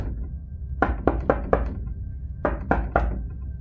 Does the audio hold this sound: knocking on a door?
yes